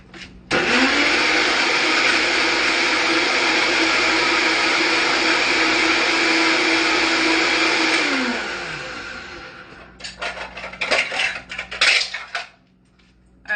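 A blender whirs loudly and steadily for about eight seconds, buzzing a bulgogi marinade with black pepper, then winds down, followed by clattering of the jar and dishes.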